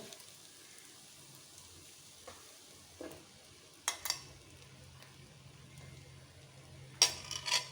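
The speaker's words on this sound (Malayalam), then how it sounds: "ഇനി ഒത്തിരി ഫ്രൈ ആവണേക്ക് മുന്നേ നമുക്ക് ബ്രെഡ് ഇട്ട് കൊടുക്കണം" Bread is added to egg masala frying in a pan. A quiet sizzle runs under several sharp scrapes and taps of a spoon on the pan.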